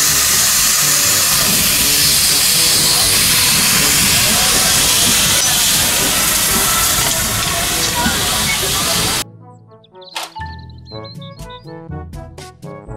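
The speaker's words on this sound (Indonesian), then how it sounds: "Kereta Thomas" Loud steady steam hiss from a Thomas toy train runs for about nine seconds, then cuts off into short tonal toy sounds and clicks.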